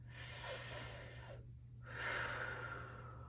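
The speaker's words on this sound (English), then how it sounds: "we're going to breathe together 6 times in through the mouth, out through the mouth" Two slow, deep breaths drawn in and pushed out through the mouth during a guided exercise for lower back pain, each one a loud airy rush, with a short quiet gap between them and a steady low hum underneath.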